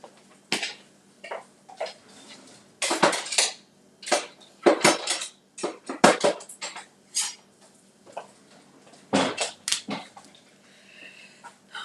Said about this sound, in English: Just getting a cutting mat and a knife.